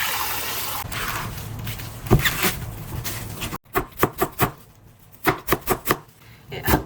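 A knife chops rapidly on a cutting board as ingredients are julienned as finely as possible for rolled fish-cake pancakes, with bursts of crisp, evenly spaced strokes after a stretch of running-water rinsing.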